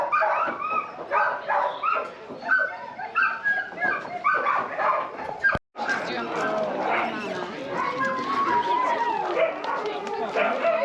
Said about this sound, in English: And we have some more sled dogs.